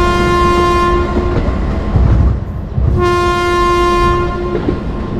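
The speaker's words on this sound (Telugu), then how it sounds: "మన ట్రైన్ అయితే స్టార్ట్ అయిపోయింది ఇప్పుడు చెన్నైకి." A passenger train leaving Hyderabad for Chennai sounds its horn in two long, loud, steady blasts with a short gap between them, over the constant rumble and clatter of the moving cars, heard close with no voices.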